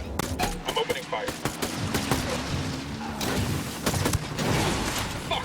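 Gunfire in Ghost Recon Wildlands, a dense run of rapid automatic shots and cracks, loud and near, continuing without pause while a voice speaks over the shooting.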